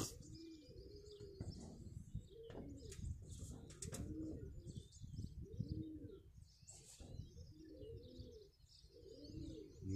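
Pigeons and turtle doves coo repeatedly in soft rolling phrases around a small tower, with scattered chirps and a few wing flaps, all fairly faint and distant outdoors.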